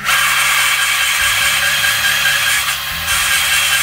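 An engine valve chucked in a cordless drill is lapped against its seat, giving a continuous grinding, whirring mechanical noise with a slight stutter in the drill's speed, loud and close, with no talk.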